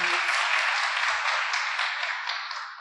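A church congregation applauds the Lord: a steady wash of many hands clapping, fairly loud and close, holding for about three seconds and easing slightly at the end with no talking.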